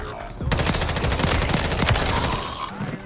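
Rapid, loud gunfire from Modern Warfare 3 crackles in a dense, sustained volley of shots for about two seconds, with voices faintly underneath.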